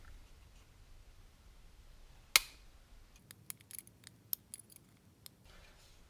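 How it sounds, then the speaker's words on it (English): Plastic being trimmed on a post of an AMT 2017 Chevrolet Camaro model car kit: one sharp snip followed by a series of quick, small clicking cuts, close and quiet. "I'm going to trim some of this plastic on top of this post."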